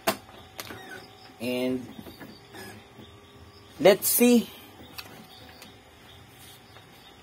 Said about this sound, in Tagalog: Let's power on the printer.